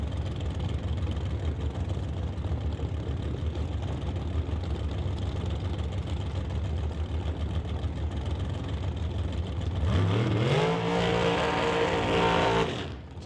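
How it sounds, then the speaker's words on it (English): Dragster at an NHRA Summit ET drag race: a loud, steady, rough engine roar runs for a long stretch, then revs up sharply near the end into a rising, harmonic-rich scream before cutting off. "So Justin Bond lights the tires on that dragster"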